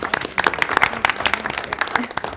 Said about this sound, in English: can we give a round of applause for Miss Allen?